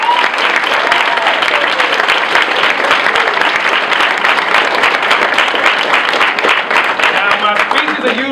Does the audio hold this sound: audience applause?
yes